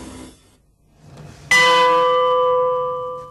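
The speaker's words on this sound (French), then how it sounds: "les cloches sont ensuite accordées." A freshly cast, tuned bronze bell is struck once after a quiet moment, giving a loud, bright clang that settles into a long, slowly fading hum of sustained tones.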